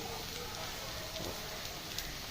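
Chicken liver fries in a pan for a masala kaleji, a steady dense sizzle and crackle running evenly throughout the short stretch, with no voice over it.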